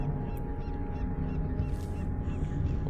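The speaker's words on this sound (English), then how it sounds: "You're an interesting looking bird." A bird in the game Dishonored 2 gives a few honking, goose-like calls over a steady low droning background, moderately close and not loud, with no talking.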